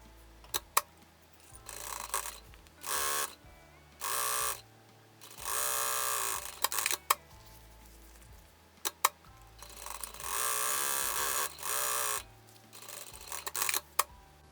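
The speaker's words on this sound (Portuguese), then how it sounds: "vou fazer duas costuras aqui fechando, nesse sentido aqui de 49 centímetros" A sewing machine stitches fabric bag pocket seams in a series of short whirring bursts separated by pauses, with clicks and fabric handling in between.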